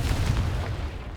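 Confringo blasting curse from Hogwarts Legacy going off as a loud, deep explosive boom that keeps rumbling steadily for about a second.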